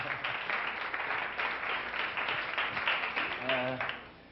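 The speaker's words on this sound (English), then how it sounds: "How about a round of applause for John Lilly," Audience applause on stage for John Lilly, a continuous spread of clapping from a crowd, moderately loud, with a voice briefly audible near the end.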